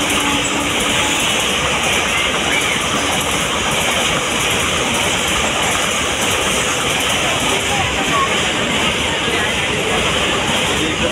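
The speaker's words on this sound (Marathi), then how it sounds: "सो आम्ही पालघर स्टेशनला आलो होतो इथे आणि आता आम्ही ट्रेन घेणार आहोत" Railway noise at Palghar station, a steady loud rumble of a train with faint rail clatter running throughout, with some voices mixed into the busy platform din.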